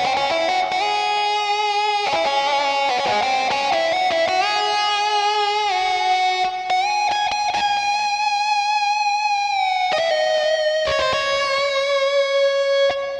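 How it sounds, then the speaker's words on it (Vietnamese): A synthesized lead guitar voice on an SX600 electronic organ plays a busy, bending melody with sustained notes, loud and close, with no voices. "mình sẽ cho mọi người nghe thêm một tiếng guitar lead"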